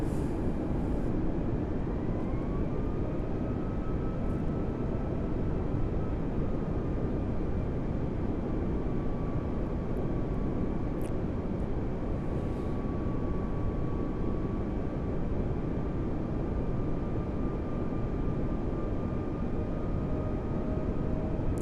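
Airliner jet engines held at full thrust in Microsoft Flight Simulator 2020, a loud, unbroken roar with a thin whining tone that slowly shifts in pitch throughout.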